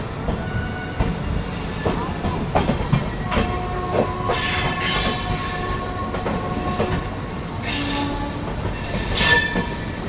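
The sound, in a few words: WAP 7 hauled festival special train departing Hazrat Nizamuddin station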